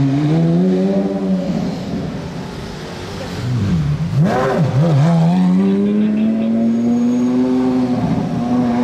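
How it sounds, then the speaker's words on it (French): A Porsche Carrera GT's V10 with a free-flowing exhaust revs loud and close, its harsh wail dipping briefly before climbing again into a steady, rising howl. "Échappement libre. Le V10 hurlant."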